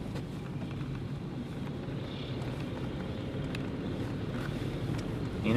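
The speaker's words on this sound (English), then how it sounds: "Little wind gust there." Storm wind during a nor'easter on the North Carolina coast rumbles and buffets outdoors as a steady, low roar that swells slightly at the very end, with no voices.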